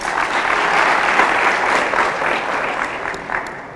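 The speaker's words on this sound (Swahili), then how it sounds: "Wapigeni makofi." An audience at a school debate contest claps in sustained, dense applause at full strength that fades slightly toward the end, with no talk over it.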